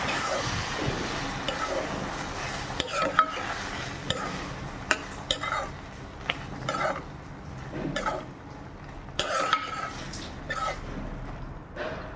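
A spoon stirs a tomato mixture in a pan during snack cooking, giving soft scraping and intermittent clinks against the metal across the whole stretch, with no talk.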